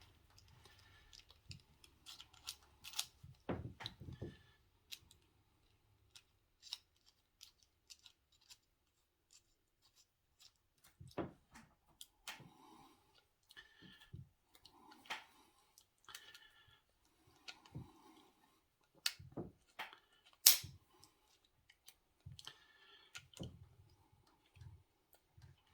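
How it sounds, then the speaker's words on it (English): Small metal parts of an M95 rifle bolt clicking and ticking as the cocking piece is threaded onto it, with sparse, irregular taps and scrapes separated by quiet gaps. "we can screw on the cocking piece"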